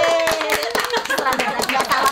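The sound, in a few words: applause for the director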